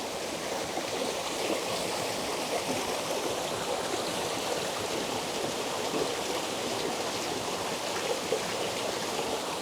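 A small waterfall splashes over mossy river rocks in a steady, dense rush of water that stays even and fairly close for the whole stretch, with no voices.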